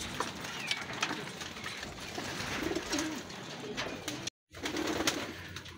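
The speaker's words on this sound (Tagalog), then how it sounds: "Ayan yung mga kalapatid oh." Several racing pigeons coo softly and repeatedly amid a busy outdoor background of shuffling and faint rustling, with a brief dropout near the end.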